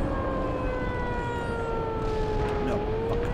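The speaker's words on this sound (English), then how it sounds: "Why is there an air raid siren?" A steady wailing air raid siren in the video game Black Mesa drones on continuously, its pitch holding then sliding slightly lower, over a constant background rumble.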